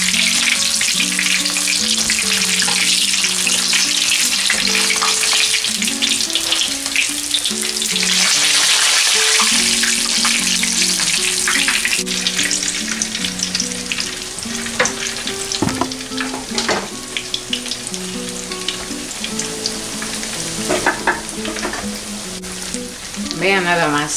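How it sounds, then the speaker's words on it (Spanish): Mushroom quesadillas sizzling and frying in oil in a pan, a steady loud crackle throughout with occasional scraping and stirring, while a voice talks and faint music plays in the background. "Vean cómo se están friendo en el aceite."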